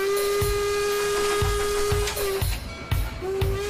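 A steam locomotive, driven by expanding steam, chuffs in a steady rhythm under a sustained whistle-like tone that briefly breaks off and resumes.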